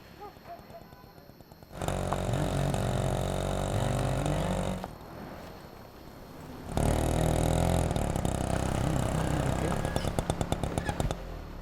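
A small auto rickshaw engine chugs and rattles in uneven stretches, idling roughly with louder revving passages, while voices talk over it in Tamil.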